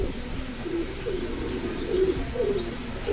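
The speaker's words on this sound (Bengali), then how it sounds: "খুব সুন্দর কবুতর।" Silver pigeons, a large hen and cock pair, coo in short, low rolling calls with a few brief chirps, near but fairly quiet over a steady background hiss.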